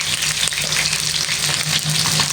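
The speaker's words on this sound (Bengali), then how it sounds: "একটু লাল লাল করে ভেজে নেব।" Potatoes sizzle steadily in hot oil with a pinch of salt, browning for a mutton curry; a close, continuous frying hiss with faint stirring throughout.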